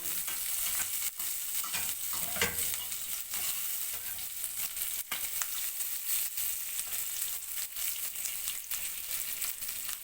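Onion rings fry in a pan of hot oil, a steady close crackling sizzle running continuously with occasional sharper pops and stirring scrapes, and no voices.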